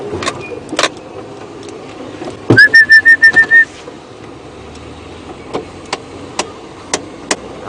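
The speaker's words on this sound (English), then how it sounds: "That was a very pretty bird made that call." A wild bird on a morning safari drive gives a clear, loud run of about seven rapid whistled notes, set among scattered sharp clicks and knocks and a low vehicle rumble, with no talk.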